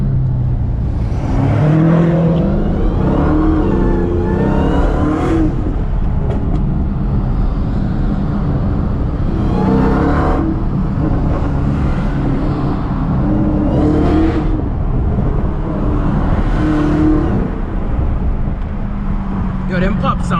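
An 800hp Dodge SRT Hellcat revving hard while driving in the rain, a loud continuous engine roar with repeated surges, under people talking inside the car; distinct exhaust pops are not clearly separable.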